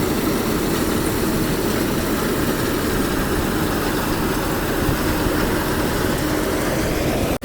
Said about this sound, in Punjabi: ਲਾਣੇਦਾਰ ਆ ਗਿਆ ਟਰੈਕਟਰ ਟਰਾਲੀ ਲੈ ਕੇ